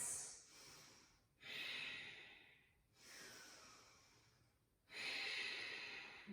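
Slow, deep ocean-sounding Ujjayi breaths during a supine yoga twist: three long, close, audible breath cycles of steady hissing through a constricted throat, each rising then tapering, with no talking.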